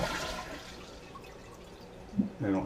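A household toilet flushes to empty its tank, a soft rush and gurgle of draining water that swells near the end, with no talking over it.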